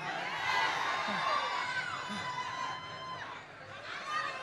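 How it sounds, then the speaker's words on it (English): An excited crowd at the Essence Festival 2024 chatters and calls out in a fairly quiet, continuous murmur, with occasional brighter shouts rising above the general hubbub. "The crowd is clearly excited."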